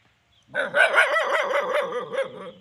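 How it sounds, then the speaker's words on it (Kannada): A dog barks repeatedly in a quick series of sharp, close barks after a brief moment of quiet. "ನಾಯಿ ಬಗಳುತ್ತಿದ್ದಾನೆ"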